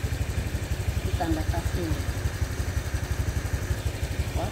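A used motorcycle's engine idles with a steady, low, rhythmic pulse under a person talking close by.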